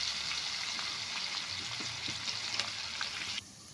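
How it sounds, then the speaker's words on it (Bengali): Chopped onions frying in a pan for a village-style chicken curry with raw jackfruit, a steady close sizzle with faint stirring scrapes that cuts off abruptly near the end. "এবার দিয়ে দিচ্ছি কুচানো পেঁয়াজ। পেঁয়াজটা লাল লাল করে নেব।"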